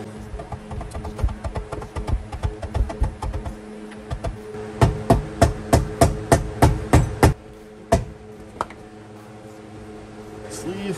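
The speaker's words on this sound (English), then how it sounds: "But you can tap it in with a mallet." A mallet taps a new Z1 Motorsports rear differential bushing into an Infiniti Q50 differential with a long series of sharp, close knocks. The blows are quicker at first, then slower and more evenly spaced before stopping, with light talk underneath.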